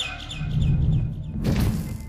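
In the horror game Garten of Banban, a bird gives a run of bright chirps over low ambient droning, and then a heavier thud breaks in.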